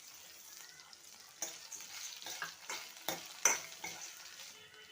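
Ginger, tamarind and coriander seeds sizzle and fry in a pan for green chilli chutney, a steady close crackle broken by several stirring scrapes and clinks, with no one speaking.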